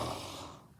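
A human voice imitates a sleeping bear's snore: one short, breathy snort that starts loud and trails off quickly.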